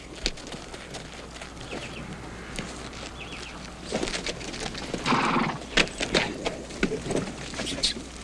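Horses stamping and clip-clopping on hard ground near a watering stop in old Texas, hoof knocks scattered and irregular, swelling busier midway, with faint bird calls and a possible whinny in the mix.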